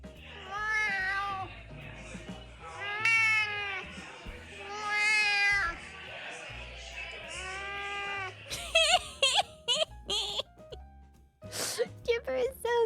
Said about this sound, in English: So vocal. I love talking to cats that are talkative.